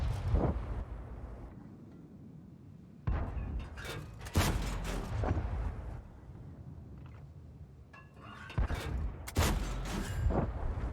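Heavy tank cannon blasts from a Char Futur 4 in World of Tanks, several loud booming shots spaced a few seconds apart, each followed by a rumbling decay over a low background hum.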